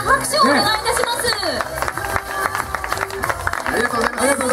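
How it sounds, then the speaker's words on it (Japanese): Applause and crowd noise from the audience at a live talk show with Sagan Tosu football players at a brand festival, steady clapping mixed with loud voices and music throughout. "皆様、本当に大きな拍手をお願いいたします。"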